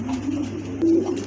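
A pair of pigeons coos close by, short low throaty calls in a quiet setting.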